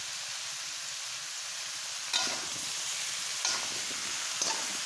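Eggplant frying in a pan gives a steady, dense sizzle and hiss up close, with a few soft stirring scrapes breaking through.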